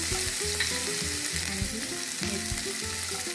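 Ginger and garlic sauté in a pan for baby corn chilli, with a loud, continuous sizzle and stirring scrapes of a spatula close by, no talk.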